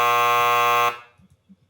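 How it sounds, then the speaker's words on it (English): A harsh, loud electronic quiz-show buzzer marks a wrong answer, one sustained flat blast that cuts off sharply partway through, followed by quiet with faint low murmurs. "it still hit me with the buzzer"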